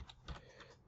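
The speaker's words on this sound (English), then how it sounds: "So just make a copy by typing this command" Quiet keystrokes on a computer keyboard, a few soft clicks in under a second as a command is entered, with no voice.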